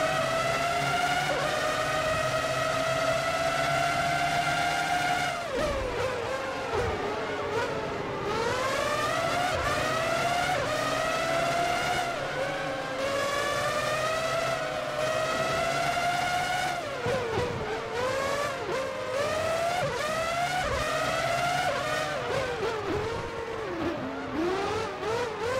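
Formula One cars race around the Monaco circuit in the PS2 game Formula One 03. Engines scream and rise through repeated upshifts, with cars whining past one another, loud and continuous.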